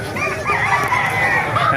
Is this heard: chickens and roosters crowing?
yes